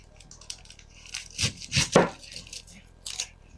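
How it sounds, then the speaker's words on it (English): A knife chops an onion on a cutting board with a few irregular, crisp cuts close by, clustered in the middle and again near the end. "We'll need to chop up 1 onion"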